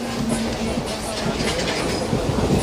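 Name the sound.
passenger train running on rails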